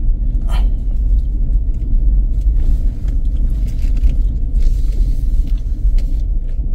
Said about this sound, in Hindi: फिसल रही है गाड़ी